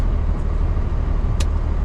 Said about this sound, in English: Rush hour traffic, early morning stuff.